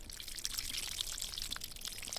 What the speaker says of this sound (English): I'm literally just going to take the spool, pour some water over the line